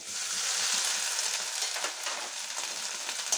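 Grated coconut fries in a pan of oil already tempered with chilli, bay leaf, cardamom and cinnamon, giving a continuous bright sizzling hiss with faint stirring.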